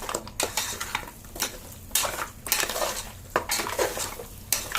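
Mutton bones with tomato, ginger and garlic stirred in a pan, a metal spoon scraping and clanking against the pan in repeated strokes, close and fairly loud, with no talking.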